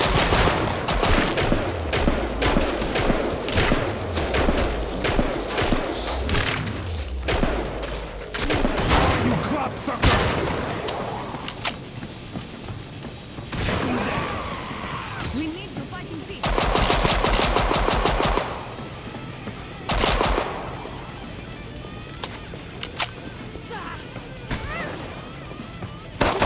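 Rapid automatic gunfire and bursts of shots from the video game Killing Floor, loud and near, with dense volleys, explosions and brief pauses, while a voice talks over parts of it.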